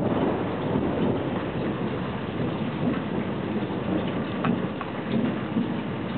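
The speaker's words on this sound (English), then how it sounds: "Check out the thunder out here." Steady rain pours during a thunderstorm in Bryant, with low thunder rumbling underneath throughout; the wash of rain stays loud and close with no voices.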